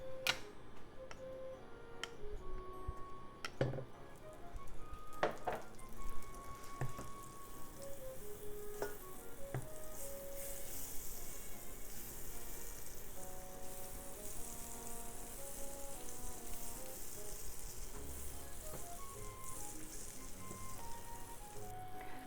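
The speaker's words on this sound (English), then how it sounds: "Heat up frying pan over medium heat and put butter." Butter melts and sizzles in a frying pan over medium heat, a faint, crackling hiss that rises steadily in the background, broken early on by a few sharp ticks and clicks.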